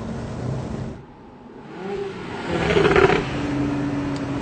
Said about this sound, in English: I have to go right down to first gear to get some punch in. Bring up the throttle.